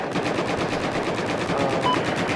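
Battlefield 4 video game gunfire, a dense continuous rattle of rapid automatic shots at steady loudness, loud and unbroken throughout.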